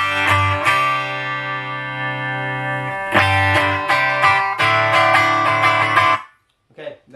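An electric guitar plays through a Fender Champion 40, a 40-watt transistor amplifier with effects, sounding loud and processed as sustained chords ring out and are restruck several times before cutting off abruptly.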